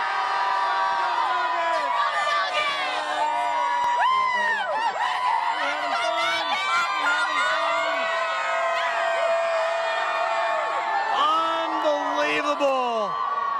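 A large outdoor crowd cheers, whoops and yells continuously, with scattered shouts rising above the dense roar.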